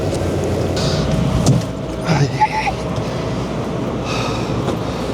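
A long-distance bus rolls into Rio's bus station and onto its stand, a low steady engine rumble with a brief mechanical hiss and clunks, indoor station ambience around it.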